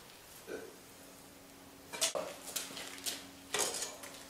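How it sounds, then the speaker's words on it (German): Metal baffle plates are set into a small tiled stove with a few sharp clanks and scrapes: a soft knock first, then a loud clatter, several lighter taps and a final metallic clang, close and quiet overall. "Am Ende finden 5 Umlenkbleche in dem kleinen Ofen Platz."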